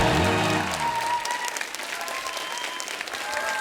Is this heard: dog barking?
no